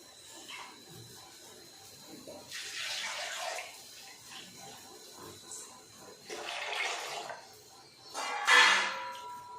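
Water splashes and pours in short bursts into a cooking pan, faint and close, with quiet pauses between the pours.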